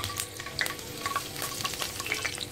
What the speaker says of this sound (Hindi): तेल गरम हो चुका है। अब हम इसमें डालेंगे लहसुन